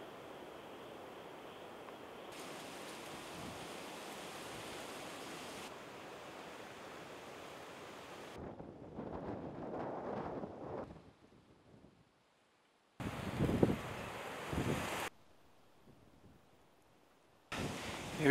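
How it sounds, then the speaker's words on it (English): Strong wind buffets the microphone on a beach on a very windy day, roaring rumble in loud bursts that drop out and return abruptly, with gusts cutting in and out. "Very windy day today, so I'm going to put my hat on just there, help stop the wind from blowing on the mic."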